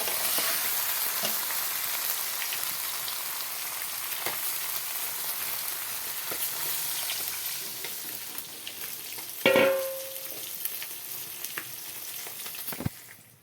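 Gravy poured over spiced vegetables frying in a pan for a katla fish curry, a steady close sizzle and hiss with occasional clinks and scrapes of a utensil, fading slightly toward the end, no talk.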